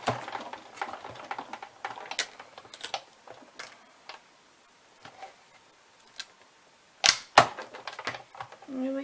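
A Sizzix die-cutting machine with extender plates cranks journal pieces through, giving a close run of irregular dry clicks and ratcheting ticks with short pauses and a sharper burst of snaps near the end.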